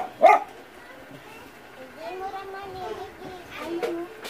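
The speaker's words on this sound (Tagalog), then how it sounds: "sensya lang kayo, madaming aso." Several dogs barking: one sharp, loud bark near the start, then scattered, softer barks and yelps further off, with people talking over them.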